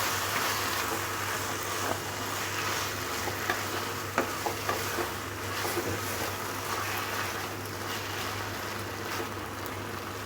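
Spice mix being stirred into taro leaves (kochu shak) frying in a pan: a steady close sizzle with scraping stirs and occasional clinks, no talking.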